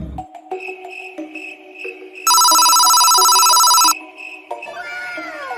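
A telephone rings in an animated comedy as a call is placed to the inspector. A loud electronic ring bursts out for about a second and a half over cartoon background sounds, then gives way to squeaky effects.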